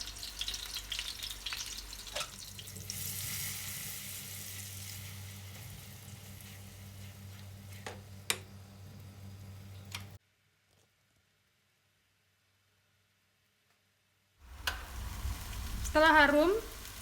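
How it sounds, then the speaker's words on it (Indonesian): Onions sautéing in a few spoonfuls of cooking oil in a pot, a steady close sizzle with occasional stirring clicks, broken by a few seconds of silence before the frying resumes. "Sudah saya kasih minyak goreng untuk menumis bawang."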